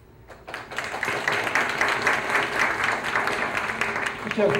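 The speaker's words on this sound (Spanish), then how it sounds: "demos un aplauso" Applause from an audience at a Spanish-language lecture in the Murcia region, swelling in quickly after a brief pause and then holding as a dense, loud, even wash of many hands clapping together.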